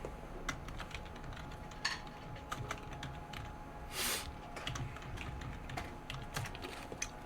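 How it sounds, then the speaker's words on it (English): Computer keyboard typed on with one hand gives irregular, close clicking keystrokes over a steady background hum, with a brief louder rustle midway and no talking. "Sorry, I'm typing with one hand."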